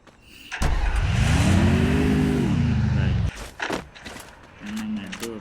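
A motorbike engine in the video game Free Fire rises in pitch and then holds a steady drone for about three seconds before cutting off. A short second engine burst follows near the end, and a voice talks over it.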